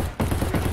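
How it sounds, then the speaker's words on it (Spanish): Gunfire in the shooter game Escape From Tarkov: a loud, dense burst of shots, briefly broken by a short gap and then resuming, close and forceful. "Disparando desde la otra parte."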